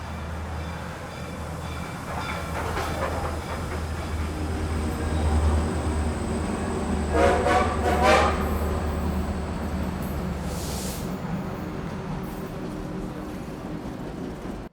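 A train rolls past on the tracks with a steady rumble and faint clickety-clack, brief squeals rising midway before it fades into ongoing noise.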